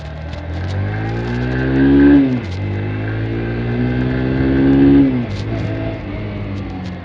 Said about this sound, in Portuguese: O barulho é bem diferente do barulho da Intruder, o som do escapamento